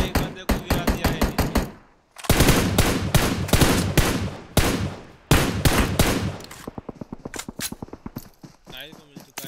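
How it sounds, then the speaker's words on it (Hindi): Rapid bursts of automatic gunfire from a battle royale shooter, loud and close, with dense clusters of shots broken by short pauses and a longer gap near the start, plus fainter scattered shots toward the end. "फायर, और काइल ने एक बंदे को गिरा दिया है।"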